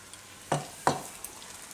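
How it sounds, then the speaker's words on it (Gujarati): Sabudana (tapioca pearl) bhajiya batter dropping into hot oil, two quick bursts of sizzling splash close up, the second slightly stronger, with a faint background crackle. "નાખીને તરત ઉપર આવે એવું તેલ આપણે ગરમ જોઈએ. આમાં હવે પાડી લેવું ભજીયા આપણે આ રીતે."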